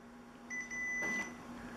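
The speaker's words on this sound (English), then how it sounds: "the sensor saw the paper in there. So it went ahead and beeped" An Epson F570 dye sublimation printer gives a short electronic beep after its sensor detects a loaded cut sheet of paper: a clear two-tone tone lasting under a second over a steady low machine hum.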